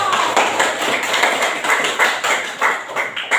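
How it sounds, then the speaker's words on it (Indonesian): Students in a classroom clap their hands together in quick, loosely rhythmic bursts, close and fairly loud, with a few faint voices mixed in. "Tepuk tangan buat masing-masing kelompok."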